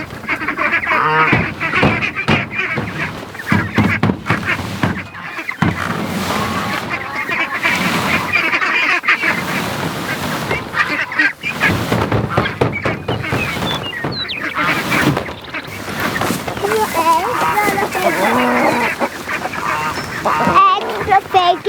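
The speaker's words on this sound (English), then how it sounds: "We got a rogue goose." Geese and ducks on a family homestead honk and quack almost continuously near a fence line, loud and busy throughout, with people talking over the flock.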